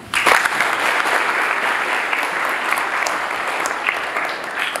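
A hall audience applauds a guest, a visiting professional athlete, with dense steady clapping that swells quickly at the start and holds loud and even throughout, with no voices over it.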